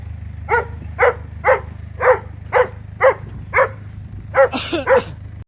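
A dog barks repeatedly at a steady pace, about one bark per second, loud and close, over a low background hum, ending in a quick double bark.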